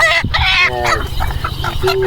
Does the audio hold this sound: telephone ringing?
no